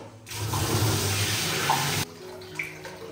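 Tap water gushes out to rinse coconuts for homemade coconut jam. It runs as a loud, steady stream for about two seconds, then cuts off, leaving faint clinks and quiet room sound.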